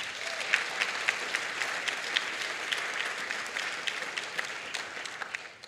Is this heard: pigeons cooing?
no